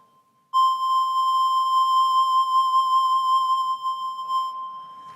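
The Ocarina phone app, with pitch set by the touch screen and vibrato by tilting the phone, sounds one sustained pure whistling tone with gentle wavering vibrato, clear and alone, changing pitch just before it stops.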